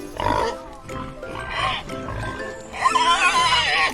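Several snorting grunts and squeals from a pig, fairly close and loud, with a rougher, higher burst of squealing near the end.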